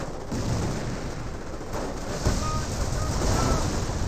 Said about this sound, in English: Now we're going to see some AT grenades.